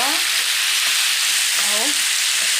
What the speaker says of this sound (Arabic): اقلب كده معايا البصل مع الكبده مع كل الخلطه اللي معايا دي